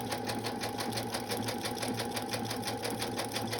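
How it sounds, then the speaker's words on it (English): A sewing machine stitches steadily through layers of pattern paper for a pocket, a fast, even mechanical chatter heard close and alone. "it goes easily through the sewing machine. And then you just want to keep sewing through."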